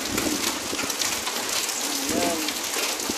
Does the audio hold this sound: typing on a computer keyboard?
no